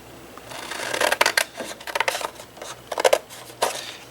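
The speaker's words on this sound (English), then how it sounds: "we're going to cut up on those score lines" Scissors snip through card along score lines while making a pumpkin basket, giving several short crisp cuts in small bursts, close and moderately loud, with no talking.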